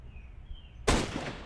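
A single loud gunshot fires in a competitive online shooter match. It cracks abruptly after a quiet stretch of low game ambience, then tails off into a short, noisy decay.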